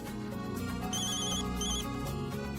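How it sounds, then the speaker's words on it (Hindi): A phone rings in a Hindi TV drama household scene with a steady, looping electronic ringtone melody, loud and close, with no talking over it. "मॉम, अवनी का फोन।"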